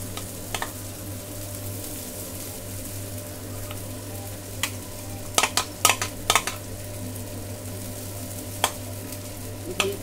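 Poha being stirred in a pan, a low steady hum with faint sizzle and scattered sharp clinks and scrapes of a utensil against the pan, clustered mid-way, with no talking.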